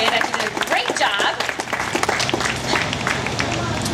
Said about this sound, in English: Now you guys can actually give him a big round of applause.